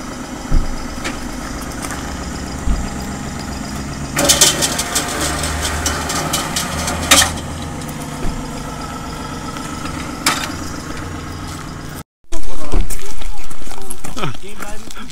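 A motorcycle engine idles steadily throughout with a low rumble, punctuated by occasional clatters and a loud revving surge near the end; people talk over it.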